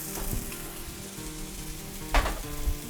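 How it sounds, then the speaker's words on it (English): Breakfast sausages sizzling in a pan, a continuous close frying hiss with a couple of louder pops and stirring scrapes, no talk. "So our sausages are just about done cooking"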